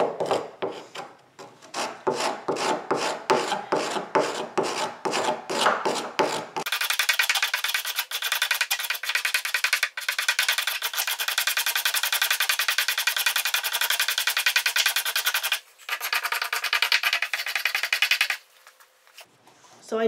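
A wooden violin top is carved with a gouge. Repeated short scraping cuts give way to a long, continuous rasping passage with brief pauses, heard close up.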